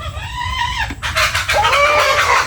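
Farm chickens cluck and call close by in a short burst of a few bright, warbling notes, rising and falling over a quiet low background hum.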